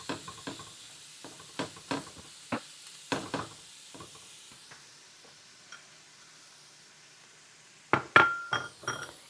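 Ground beef and onions cook with taco seasoning in a pan, heard as a soft sizzle under clinking and scraping of a utensil against the pan in uneven bursts, pausing midway before a final flurry of knocks.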